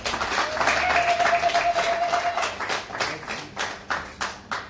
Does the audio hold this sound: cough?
no